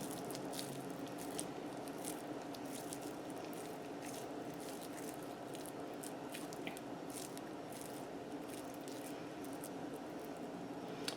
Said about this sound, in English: they cover the boiled egg